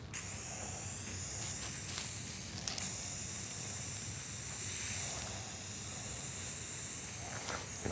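Alcohol is sprayed onto an epoxy table top in a steady, close hiss that runs continuously at moderate loudness, with no talking.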